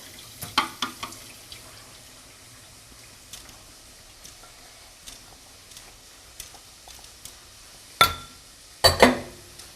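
Water being drained off a cup of soaked red rice, with faint pouring and trickling, scattered small clinks, and a few louder splashing bursts near the end, close by.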